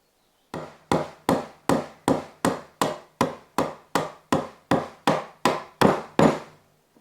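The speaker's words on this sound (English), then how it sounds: "it just tells me when to stop hitting with the hammer" Hammer blows drive a chisel into wood while chopping out vice leg joinery, fourteen sharp, evenly spaced strikes close up, each decaying quickly, with no talk.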